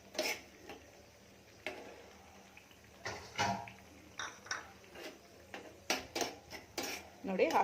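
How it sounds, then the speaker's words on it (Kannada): Cashews roasting in ghee in a pan for carrot halwa, stirred with a utensil that scrapes and clicks against the metal in a run of short, close knocks that grow quicker toward the end, over a faint background hiss. "ಈಗ ಇದನ್ನು ಬ್ರೌನ್ ಕಲರ್ ಬರೋವರೆಗೂ ಸ್ವಲ್ಪ ಹುರ್ಕೊಳ್ಳಿ."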